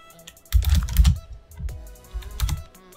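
Computer keyboard typing in bursts of quick key taps, close and clear, with a pause between the groups of strokes and no voices.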